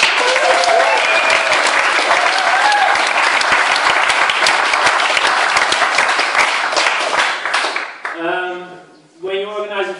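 Loud, dense applause from a festival audience in The Hague fills most of the stretch, then drops away as a voice starts speaking near the end.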